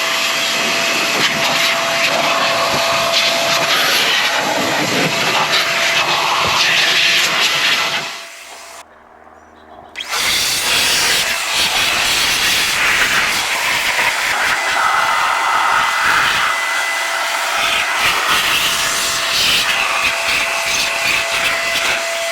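An air blower is blasting out the interior of a very dirty car, making a loud, steady rushing roar with one short break in the middle before it starts again.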